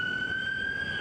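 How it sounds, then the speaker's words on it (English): A steady ambulance siren tone holds over a low rumble, sounding continuous and moderately loud for a second, responding to an industrial explosion at a carbide plant. "The sound of ambulances pierced the air Monday evening"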